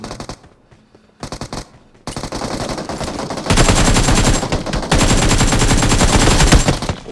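Rapid automatic gunfire from a shooter video game, loud and close, with short bursts that build into long sustained volleys, no voices.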